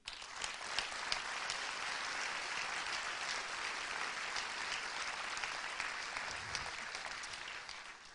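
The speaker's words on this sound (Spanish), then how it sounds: "Un aplauso para ellos." Sustained applause from an audience honoring Alcoa workers at a public event, a dense, even wash of clapping that carries on steadily for several seconds, heard at a moderate distance.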